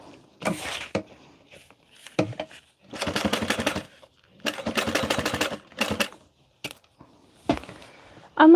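A sewing machine stitches lining fabric in short bursts of rapid mechanical rattling, separated by pauses and a few clicks and knocks, close and fairly quiet, with no talking.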